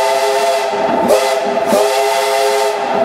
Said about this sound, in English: that whistle tells me we're coming up on Sweet Mary's Tunnel